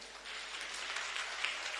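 An audience applauds steadily, a dense wash of many hands clapping at moderate, fairly distant level throughout.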